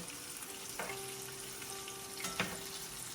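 Chicken pieces for General Tso's chicken deep frying in hot oil, a steady dense sizzle that runs throughout with a few sharper pops and crackles, close and alone without talking.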